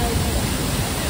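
The Soormane Falls waterfall gives off a dense, roaring rush of falling water, loud and close and unbroken, with a voice mixed in.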